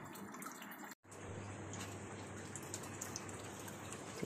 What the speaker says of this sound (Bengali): কারণ বৃষ্টি হচ্ছে তো